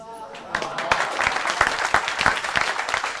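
A live audience at a Hindi poetry and comedy show breaks into applause after a spoken verse. Dense crowd clapping swells in and continues as voices carry over it.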